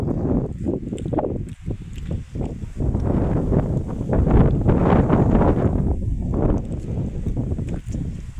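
Strong wind buffets the microphone in continuous roaring gusts, with rustling and scuffing noises throughout and no clear speech.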